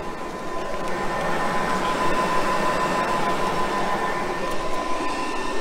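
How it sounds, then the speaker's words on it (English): Steady, loud whirring drone of large cooling fans on an EV fast charger at a Tesla Supercharger V3 charging a Porsche Taycan, with a constant tonal hum, running continuously without pause. "active cooling from the charger as you can hear"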